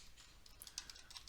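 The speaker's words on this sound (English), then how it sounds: "We're going to type" Fast, light clicking of keys on a computer keyboard, a short burst of faint, close typing with quick irregular taps.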